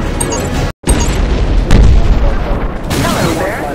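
Loud, booming explosions rumble in the MiG-21 jet combat video game, with heavy overlapping blasts following one after another and a voice heard over them.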